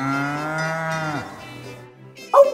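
A cow gives one long, close moo that fades out, followed by a short higher cry right at the end.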